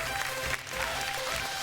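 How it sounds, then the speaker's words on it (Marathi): A studio audience at a Marathi women's game show claps together, a brief dense burst of applause at moderate level, steady and unbroken. "एकदा जोरदार टाळ्या झाल्या पाहिजेत."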